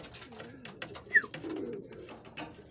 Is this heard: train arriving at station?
no